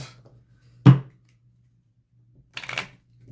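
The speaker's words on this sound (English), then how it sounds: "Give them a bit of a shuffle here." A deck of tarot cards is shuffled by hand in two quick riffling bursts separated by a pause, close up over a faint steady hum.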